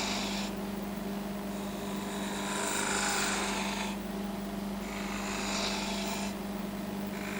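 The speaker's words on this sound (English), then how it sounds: "we can use just one cut, one rolling action of the skew chisel." Skew chisel making rolling cuts on a spindle turning on a wood lathe, a steady motor hum beneath two long rasping passes of the blade across the wood, close and fairly loud, with no talk.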